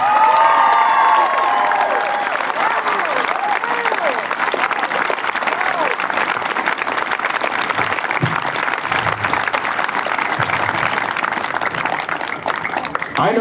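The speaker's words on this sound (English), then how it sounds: "so give her a round of applause for that." Sustained crowd applause with some cheering at an I, Too Am America community speaking event, dense and steady throughout, with scattered voices mixed into the clapping.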